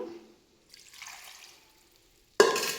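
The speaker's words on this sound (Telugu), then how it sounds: "మనకి చారుకు కావాల్సినంత నీళ్ళు పోసుకోవాలండి" Water being poured into a cooking pot for a curry: a short, faint splash that trails off, then a louder, sudden burst of pouring splash at the end, with no talk.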